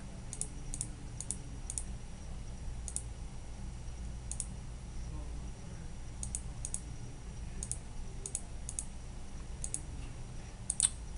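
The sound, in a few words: mouse clicking on a computer screen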